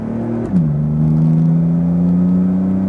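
A Porsche GT2 RS accelerating hard on a racetrack, its engine note dropping briefly during a shift and then holding a loud, steady, rising drone close by.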